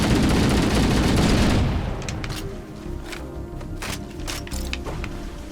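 Loud sustained gunfire and explosive blasts from a firefight in Halo: Combat Evolved, a dense barrage easing into scattered sharp cracks and shots over a lower rumble.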